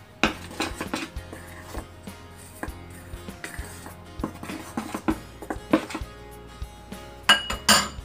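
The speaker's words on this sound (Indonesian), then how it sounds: "tepung tapiokanya kita tambahkan 2 sendok terigu ya, lalu kita campur dulu" Tapioca flour being mixed with wheat flour in a bowl: repeated scraping, clinking and tapping of a utensil against the bowl, irregular and close, with no talk.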